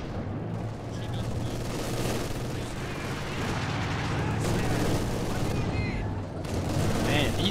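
Light machine guns rattle in Company of Heroes 2 amid a dense wartime battle mix of sustained gunfire and booms, loud and continuous throughout while players talk over it.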